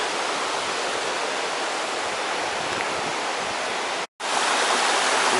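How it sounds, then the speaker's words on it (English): Rushing whitewater of the River Dee running as a rapid beneath the Pontcysyllte aqueduct, a loud, steady broadband roar close by that continues unbroken apart from one brief dropout near the end. "there's the River Dee. It runs as a rapid under the bridge."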